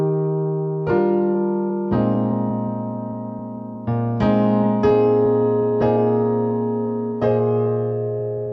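Piano chords in root position, first inversion and second inversion struck one after another in a slow, steady sequence, each ringing out and sustaining before the next, with no voices.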